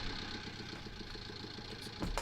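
A Zetor tractor engine idles in the Farming Simulator 19 farming game, giving a steady low, chugging rumble with a short louder burst at the very end.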